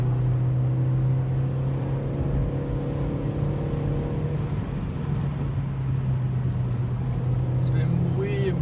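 A VW Polo 5 with a stock 1.4-litre 85 hp naturally aspirated engine hums steadily from inside the cabin while driving, a constant low drone that stays even with no clear rise in revs.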